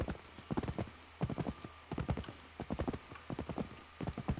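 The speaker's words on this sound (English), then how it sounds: "I think we need a horse for this." Horse hooves clip-clopping in a video game, a brisk uneven run of sharp close hoofbeats in clusters with brief pauses, clear and alone over a low background.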